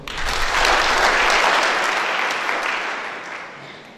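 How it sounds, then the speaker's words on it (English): Audience at a university public lecture breaks into loud, sustained applause that swells quickly and then tapers off slowly, with no voices over it. "Can you clap for that?"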